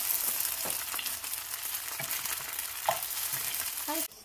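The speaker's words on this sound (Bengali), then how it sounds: "এই দেখো আমি হালকা হালকা ফ্রাই করে নিয়েছি" Rice paper noodle rolls shallow fry in a pan with a continuous close sizzle broken by a few soft utensil taps and turning sounds, no talk.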